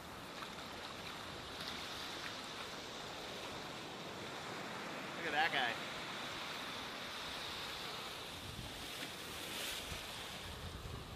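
Ocean waves roll and wash steadily onto a rocky shore where starfish cling, a broad continuous surf hiss with wind buffeting the microphone and a brief spoken remark partway through.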